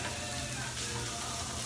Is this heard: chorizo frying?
yes